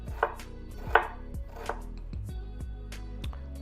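A knife chops an onion on a cutting board into fine dice with a series of vertical slices, giving sharp, irregular taps close by, a few louder strikes standing out against quiet gaps.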